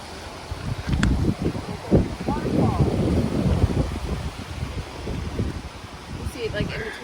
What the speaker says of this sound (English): That is one of the most spread out waterfalls we've seen.